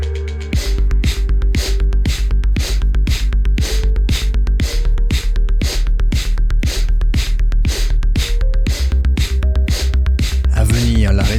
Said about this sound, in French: À venir le Bastrika dans 3,